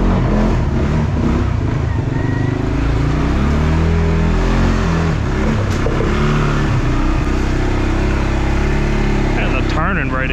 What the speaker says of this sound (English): I'm gonna ride on low and most of the time 4-wheel drive on the creek